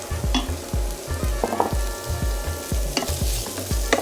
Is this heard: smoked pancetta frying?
yes